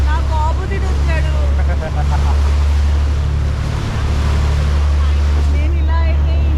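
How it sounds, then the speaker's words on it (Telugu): Niagara Falls roaring up close, a loud, steady broadband rush of falling water with wind buffeting the microphone, and excited voices talking over it throughout. "చూడు చూడు చూడు చూడు చూడు నయాగరా ఫాల్స్"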